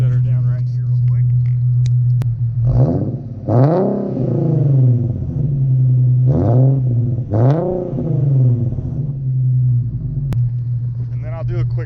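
An Infiniti Q50 engine revs up several times in sharp bursts over a deep idling exhaust rumble, close and loud, settling back between each rev.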